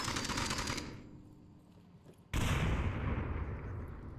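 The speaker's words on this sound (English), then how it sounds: "A lot of really close nades." Close grenade blasts in the VR shooter Onward: a loud burst fades into a quieter stretch, then a second sharp, near explosion erupts and rumbles on to the end, with no talk.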